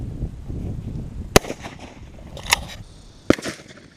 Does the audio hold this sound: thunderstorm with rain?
no